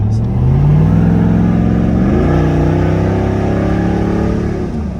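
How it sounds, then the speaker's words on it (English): A 2003 Chevrolet Silverado pickup's gasoline engine revs hard under acceleration, its loud, rising drone climbing in pitch for about two seconds, then holding a steady roar before easing off near the end, with no talking. "It's loud. I'm gonna roll down the window and see how loud it is."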